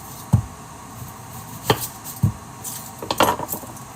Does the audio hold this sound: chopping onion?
yes